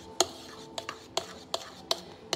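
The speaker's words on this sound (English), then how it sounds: "all the scraping and stuff makes noises" Spoon scraping and stirring in a bowl of chocolate mousse mix, six sharp, evenly spaced clinks and scrapes over a quiet background, close and clear with no speech.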